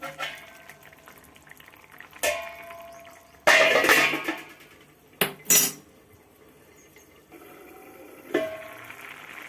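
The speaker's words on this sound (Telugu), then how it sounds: "మూత పెట్టేద్దాం" A metal lid is set on a cooking pot of egg and broad bean curry, giving several loud clanks and scrapes of metal cookware, one longer rattling clatter among them, over a quiet kitchen background.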